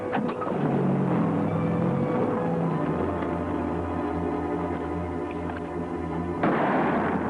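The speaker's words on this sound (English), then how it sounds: "Someone's using us for target practice." Rifle gunshots fired at travelers in a Western setting, sharp loud reports over a steady running car engine, with a fresh burst near the end.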